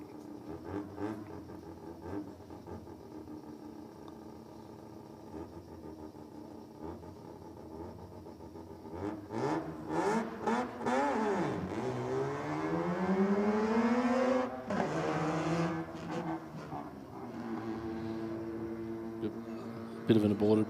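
A Mazda RX-7 rotary engine wails and revs hard through a burnout at an SUV-theme race night, rising and falling in pitch with loud sustained howls, under crowd noise and announcer talk.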